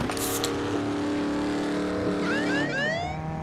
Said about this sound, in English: I just heard that police SUV, Brad.